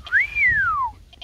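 A single clear human whistle that rises briefly and then slides slowly downward, close and alone.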